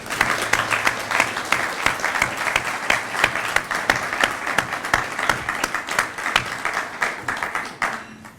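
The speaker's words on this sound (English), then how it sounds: "I want to give them another round of applause for all their support" Sustained applause from a fire academy graduation ceremony audience, dense steady clapping that swells and then tapers near the end.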